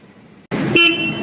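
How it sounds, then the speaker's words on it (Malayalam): A Royal Enfield Guerrilla 450 motorcycle sounds its single loud horn in one short, close blast, alone after a brief quiet moment. "ലൗഡർ ആയിട്ടുള്ള ഒരു സിംഗിൾ ഹോൺ സെറ്റപ്പാണ്"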